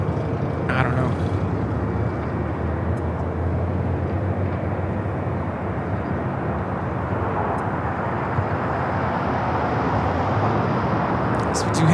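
A Korean Air Boeing 747-8 on the downwind leg near LAX gives a steady, broad jet roar that holds loud and even for the whole stretch, with a voice talking over it.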